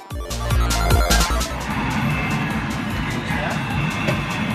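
Arcade racing game car engine and skidding tires in a Thomas & Friends Minis arcade game, loud and continuous with a revving start, layered game music and effects.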